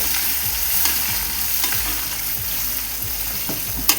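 Garlic frying in a black iron kadai, a steady loud sizzle with repeated scraping stir strokes of a spatula against the pan throughout.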